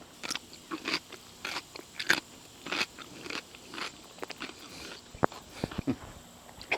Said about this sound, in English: The thing I really want you to hear is just how crispy these pickles are.